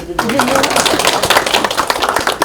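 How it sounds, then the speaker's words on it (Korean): A ceremony audience applauds at the launch of the Democratic Party's culture and arts special committee: dense, steady clapping from a modest crowd that starts after a brief pause and carries on throughout, with some voices mixed in. "박수 한번 주십시다."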